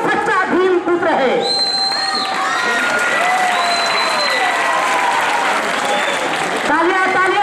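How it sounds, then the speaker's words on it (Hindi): Audience applause at a prize distribution ceremony for a general knowledge competition, sustained and steady clapping from a crowd under an announcer's voice and musical tones throughout. "तालियां तालियां तालियां नहीं रुकनी चाहिए, जोरदार तालियां।"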